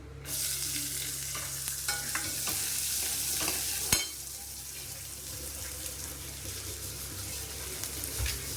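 Small shallots for dal fry in a pan with a steady, fairly faint sizzle, broken by light stirring scrapes and a sharp clink of utensil on pan near the middle.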